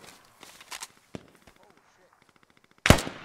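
Gunfire in the Squad video game during a one-life operation: scattered shots and footsteps early, then a loud close burst near the end, with players talking over it.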